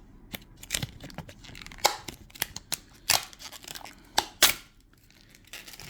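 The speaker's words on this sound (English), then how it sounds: "So we shall peel off this protective plastic and see those scratches vanish." Protective plastic film is peeled off an acrylic figure standee in a run of crisp, crackling tears and rips, irregular in rhythm and close, with quiet gaps between the sharper pulls.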